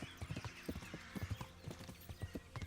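A horse's hooves clip-clop at a steady, rhythmic walking gait in the medieval video game Kingdom Come: Deliverance, close and fairly quiet, with no talking over the hoofbeats.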